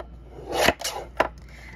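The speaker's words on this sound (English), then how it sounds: "Taking my Tim Holtz tonic trimmer, I'm going to cut this down to" Two brief swishing cuts from a Tim Holtz Tonic paper trimmer slicing a card background down to size, close and fairly soft, the second shorter than the first.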